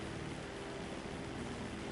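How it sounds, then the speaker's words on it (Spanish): A helicopter in GTA Online drones steadily with a continuous rotor and engine roar, moderately loud and unbroken for two seconds, with no voices. "Está el helicóptero."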